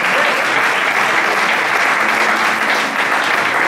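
A church congregation claps loudly and continuously for a pastor, a thick, close wash of many hands with no break and no voices over it.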